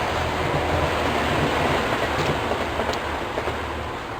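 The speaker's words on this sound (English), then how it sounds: "Hang on, train." A train passes near an allotment as a steady, loud rumbling roar that fills the whole stretch and eases slightly toward the end, with no voices over it.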